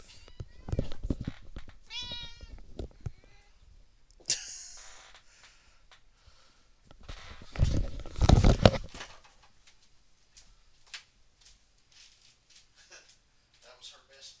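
A pet cat meows several times at close range, with loud bursts between quieter stretches, while people talk in a room and a truck race plays in the background.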